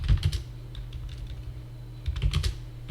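Keys clatter on a computer keyboard during accounting data entry, with close, fairly loud quick bursts of typing at the start and again near the end, separated by a quieter stretch.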